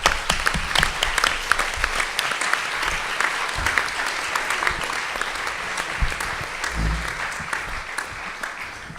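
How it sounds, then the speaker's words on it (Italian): Sustained applause from an audience at a Catholic Action centenary assembly, dense steady clapping filling the hall for several seconds, with a few low thuds and faint voices underneath. "potevamo fare anche un applauso più lungo"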